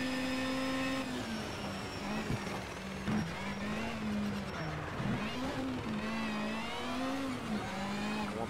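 A racing car engine in the video game Need for Speed: Shift 2 Unleashed, a steady droning hum that rises and dips with revs and gear shifts, loud and continuous.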